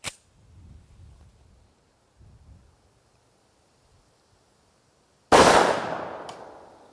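A single loud, sharp shot from a Springfield Armory XD-M Elite 3.8-inch compact 10mm pistol firing Buffalo Bore 180-grain jacketed hollow point, near and abrupt with a quick decaying tail after quiet handling sounds.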